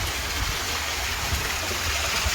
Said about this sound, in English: So that hose is snaking around down there, so it's clear the water's coming out.